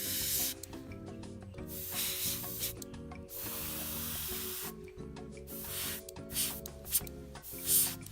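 Fine airbrush hiss as paint is sprayed along the track edges of a 1/56 scale M4 Sherman tank model, coming in long close bursts separated by brief breaks, with no talking.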